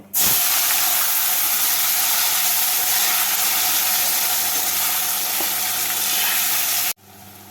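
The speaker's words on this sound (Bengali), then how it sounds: "নুন আর হলুদ দেওয়া তেলের মধ্যে আলুগুলোকে দিয়ে ভেজে তুলে নেব" Potatoes frying in hot oil seasoned with salt and turmeric, a loud continuous sizzle that holds steady for about seven seconds and then cuts off abruptly.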